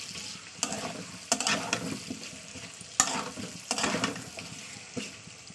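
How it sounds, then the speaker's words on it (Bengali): Potato pieces fry in oil alongside onion and meat, a steady sizzle broken by repeated scraping strokes of stirring, fairly close and without talk. "ভালো করে আলুটাকে তেলের সঙ্গে ভাজা করে নিতে হবে"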